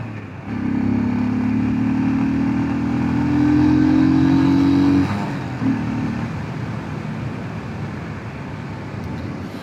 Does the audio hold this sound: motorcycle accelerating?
yes